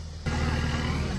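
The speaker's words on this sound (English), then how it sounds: "Jared's helping Levi get this backed up into the garage so we can start tearing this apart" A 1992 Dodge truck backing into a garage: the engine rises abruptly to a steady, close low rumble that holds evenly to the end.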